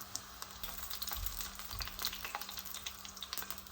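Cigara borek, thin rolled Turkish pastries, frying in hot oil and turned on both sides, with a quiet, continuous crackling sizzle and scattered tiny pops, close by and alone.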